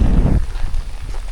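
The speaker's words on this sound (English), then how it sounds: "here we are in the rain" Rain patters steadily on a tent during a Kangaroo Island bike tour, a dense wash of drops with a low rumble of wind or thunder at the start, close and enveloping throughout.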